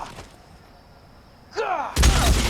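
Gunfire erupts in the crime video game LA Noire. A faint whistling sweep builds first, then a loud, dense burst of shots and blasts fills the final half-second.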